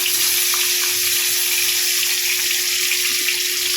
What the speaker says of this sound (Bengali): পটল ভাজবো বলে এখন যাই কড়াইয়ের পটলটা দিয়ে আসি